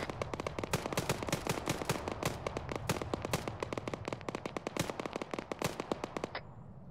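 Rapid, dense gunfire in a military video game, a long unbroken run of sharp shots and bursts crackling steadily for several seconds before cutting off, loud and near with no voices.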